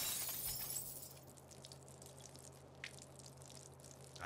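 Glass chemical bottles breaking on a floor in the South Park: The Fractured But Whole video game: a sharp shattering burst at the start, then a quiet tail of faint tinkling and dripping over a low hum.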